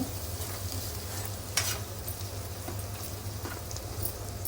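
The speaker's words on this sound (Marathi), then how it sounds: "आपण मिक्स करूया बघा कांदा टोमॅटो छान शिजलाय मऊ" Onion and tomato, cooked soft, are stirred in a pan with a steady low sizzle and occasional scrapes, close and moderately quiet, with no voices.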